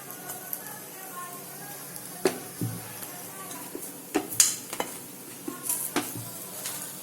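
A little oil sizzling on a hot tava while onion paratha cooks, with a soft, low crackle broken by scattered clicks and clinks of utensils against the pan.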